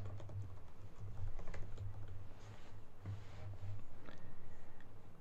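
Fingers tapping out a WiFi password on a computer keyboard during initial setup of a Spirit WiFi device, a steady run of close, light key clicks in short bursts with a low hum underneath.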